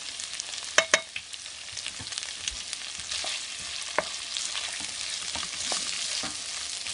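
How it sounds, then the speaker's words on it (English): Butter melting and sizzling in a frying pan with onions, a steady close crackle with a few sharp taps and clicks of a utensil near the start. "I'm just going to take a little tip of butter and add that in"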